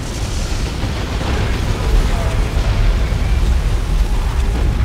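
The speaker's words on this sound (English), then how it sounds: "Orbital bombardments going in and hitting Jack." Orbital bombardment explosions in a Dawn of War II: Retribution multiplayer match, a loud continuous rumbling roar of blasts that swells and stays dense throughout.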